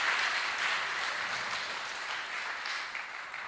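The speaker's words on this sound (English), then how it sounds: "Let's give them a round of applause." Applause from an all-age church congregation at a summer Sunday service, a steady dense patter of many hands that holds evenly and eases slightly toward the end, with no talking over it.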